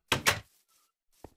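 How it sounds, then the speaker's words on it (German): A wooden door in Minecraft slams shut with two quick, loud knocking thuds close together, then near silence broken by a faint click at the end. "Haut mir die Tür vor der Nase zu."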